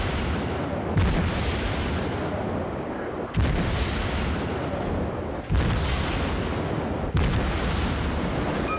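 Ship guns firing in a naval battle video game, four heavy booming salvos spaced about two seconds apart over a constant loud rumbling background.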